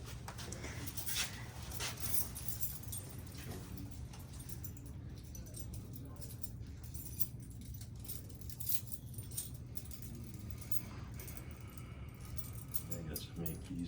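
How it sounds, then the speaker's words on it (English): A large ring of many keys jangles on and off throughout a building electrical room, metallic clinks sounding near over a steady low hum while people talk. "I got so many keys in here."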